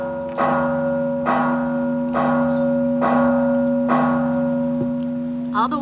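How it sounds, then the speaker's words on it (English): Church bells in Guanajuato ringing to call people to church: five loud, resonant strikes in an even rhythm, each humming into the next, close and clear. "Ugo knows the whole rundown of like what the bells mean"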